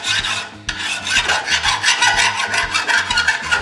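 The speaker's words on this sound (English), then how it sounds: "So now method 2, we're just going to use one of these files." A hand file scrapes across a blade, most likely a mower blade with a small nick along its contoured edge, in steady repeated rasping strokes, close and loud, with no talking.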